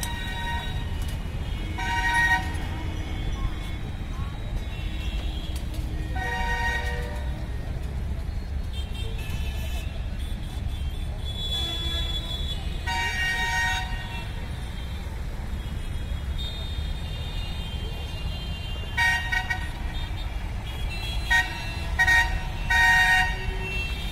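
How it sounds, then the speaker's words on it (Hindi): The Gomti Nagar Express passing near Bhitauli crossing on the Daliganj–Sitapur line, with repeated short horn blasts over a steady rumble of rolling wheels and engine noise; a voice speaks briefly. "तो ये गोमती नगर एक्सप्रेस सीतापुर जंक्शन की तरफ जाते हुए"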